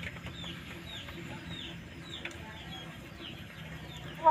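Old, no-longer-productive laying hens in a backyard coop give soft, scattered clucks and calls, faint and fairly distant over quiet background hum, ending with one sharper nearby knock.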